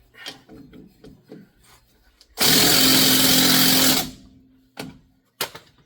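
Impact wrench driving a strut nut home on a 2014 Chevy High Country truck: one loud, steady burst of about a second and a half, preceded and followed by faint clicks and handling noises.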